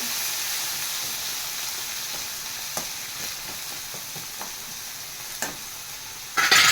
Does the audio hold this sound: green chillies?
yes